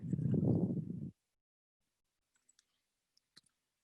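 Faint mouse clicks in reconfiguration software, a few isolated taps spaced apart in near silence just after a brief stretch of talk.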